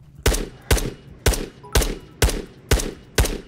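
Seven sharp gunshots in Ghosts of Tabor, a VR shooter, fired at a steady pace about half a second apart, each a loud crack with a short decaying tail, no talk over them.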